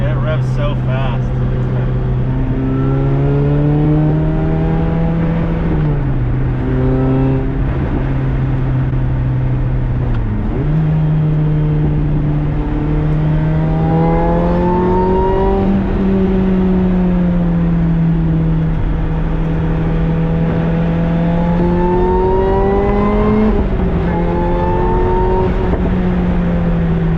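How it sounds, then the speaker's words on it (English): Inside a supercharged Lotus Exige on the move, the engine's loud, close drone repeatedly climbs in pitch and falls back through quick gear changes, with a voice faintly present beneath it. "It revs so fast."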